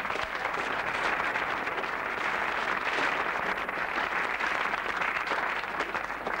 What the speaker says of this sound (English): can we have a big round of applause, please, for the people who found all those gorgeous things to go on the table?